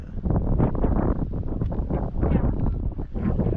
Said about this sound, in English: beautiful Arizona weather, very windy.